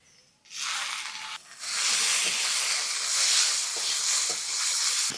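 Turmeric-and-salt-coated shrimp hit hot oil with onions and crushed garlic, bursting into a loud, steady hiss that holds for several seconds after a brief quiet start, with a few light clinks.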